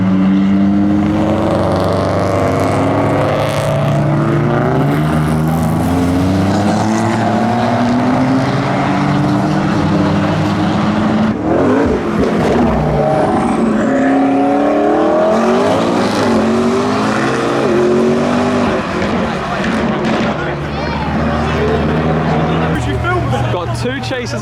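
Modified cars pull away from a car meet in Basingstoke, engines revving hard and loud with tire squeal and passing roars, among them an Audi with two-step launch control, while people talk and shout nearby throughout.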